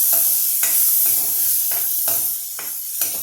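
Onion and tomato with salt cooking in a pan for a Karnataka-style puffed rice snack, a loud constant sizzle broken by several scraping stirs of a spoon at regular intervals.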